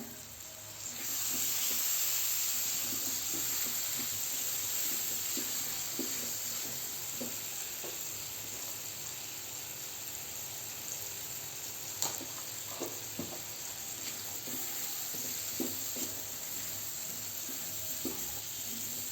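Tomatoes frying in a pan for a palak, besan and matar sabzi, with a steady soft sizzle and hiss throughout and scattered small pops and clinks of stirring.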